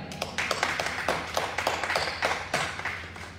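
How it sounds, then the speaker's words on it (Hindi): Audience clapping during a Hindi Christian worship meeting, a steady patter of many hands lasting several seconds at moderate loudness with no voices over it. "तालियों।"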